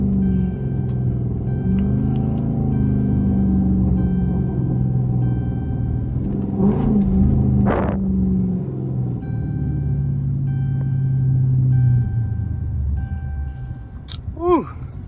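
A Chrysler 300 with a 5.7 Hemi engine rumbles steadily from inside the car, a deep continuous low drone with slight rises in pitch, loud and close, with a few brief chirps and squeaks near the end.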